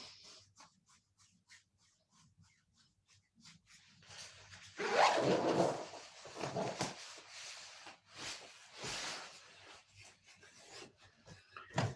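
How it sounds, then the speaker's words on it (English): Palms of the hands rub and grind together during a qigong session, making a soft, close rasping friction in several bursts, quiet with gaps between. "And then we're going to grind the palms of the hands together."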